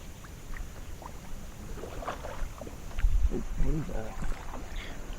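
A kayak paddle dips and pulls through water during an early-morning bowfin fishing tournament. The soft, quiet splashes and swishes are close and low over faint background noise, with a slightly fuller stroke near the middle.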